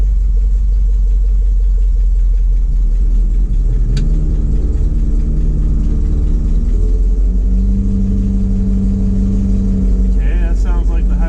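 A hydraulic pump runs on a Ford F700 salt spreader truck, a loud, steady low mechanical drone over engine rumble that shifts pitch a couple of times partway through.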